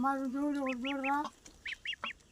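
Ducks and chickens feeding together, with a run of harmonic honking calls followed by several short, sharp clucks and squawks, close and moderately loud.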